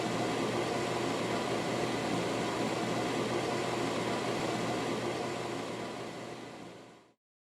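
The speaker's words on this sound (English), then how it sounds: "This is the pan on the stove. The water's just getting ready to boil." Water heats in a stainless steel pan on an electric stove burner, giving a steady, dense hiss and rumble that holds evenly for several seconds before cutting off, with no voices.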